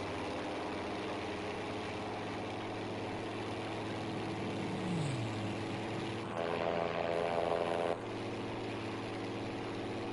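A steady droning aircraft engine from the World War II shooter Battlefield V, the fighter plane's hum continuous and fairly loud, with a brief rising whine and a short mechanical change in tone midway.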